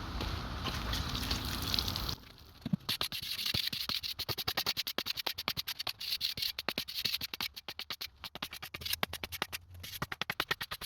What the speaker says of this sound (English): you want to go ahead and add some water